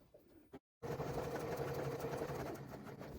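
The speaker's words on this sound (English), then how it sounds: "I'm going to sew all the way down this edge to one stitch beyond the corner, keeping my lining out of the way" A sewing machine stitches steadily down the edge of a bag. After a brief pause, a continuous close whirring hum runs without a break. No speech.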